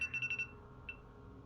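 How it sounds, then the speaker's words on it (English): An alarm goes off while Redfall is being played, a short run of rapid high electronic beeps followed by one more isolated beep, faint over quiet game background. "Oh, that's my alarm going off."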